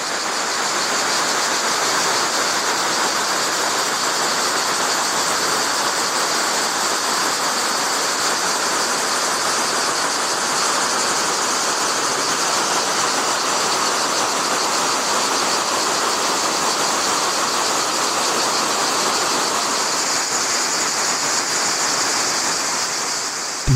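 Skradinski buk waterfall in Croatia's Krka National Park roars as a broad, constant rush of cascading water, loud and unbroken for the whole stretch with no voices.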